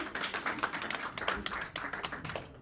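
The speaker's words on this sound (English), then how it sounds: "Applause, come on." Audience applause at a diversity panel event, a dense, steady patter of many hands clapping for nearly three seconds before tapering off at the end.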